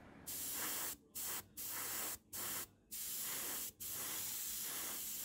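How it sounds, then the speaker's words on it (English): Airbrush spraying Vallejo base color onto model seat parts, a steady close hiss in several bursts separated by short pauses, with no talking. "This base color is now sprayed onto the seat parts in an even coat."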